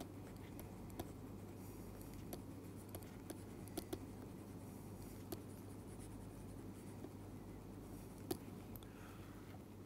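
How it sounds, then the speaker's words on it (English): A pen scratches and taps faintly on paper as math equations are written out by hand, with soft intermittent strokes over a low steady hum in a quiet room. "Let me write down two simple equations."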